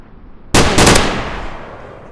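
Loud gunfire bursts out in a VR shooting game: a sudden sharp onset followed by a rapid cluster of shots, then a long decaying echo that fades over the next second and a half, with no talk.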